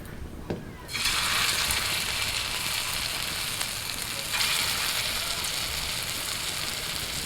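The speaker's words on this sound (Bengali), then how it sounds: "তেল গরম হয়ে গেছে, এবার ছোটো ছোটো করে বড়া ছেড়ে দিচ্ছি" Small elephant foot yam fritters drop into hot mustard oil in a wok: after a quiet second, a sudden loud burst of sizzling bubbles up and holds as a steady, close crackling hiss, swelling again near the end.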